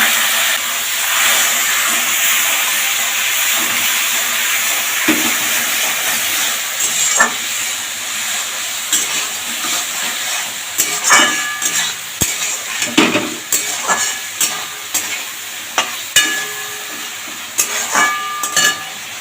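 Fish pieces frying with spices and a splash of water in oil for a Bengali curry, a continuous hissing sizzle with frequent sharp scrapes and knocks of stirring that grow busier toward the end, close up.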